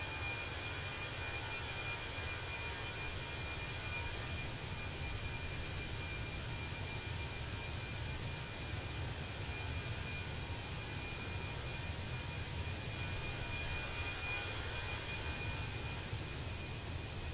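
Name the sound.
Fenix A320 Airbus airborne, from video game MSFS 2020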